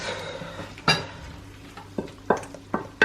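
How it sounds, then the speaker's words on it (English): Sieved tomato poured into a hot pan of rump steak with Moroccan seasoning, sizzling steadily while a utensil stirs and knocks against the pan several times in short, sharp bursts. "Just add in the sieved tomato now."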